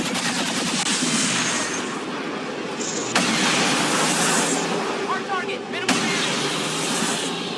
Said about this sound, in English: the shotguns do so much damage!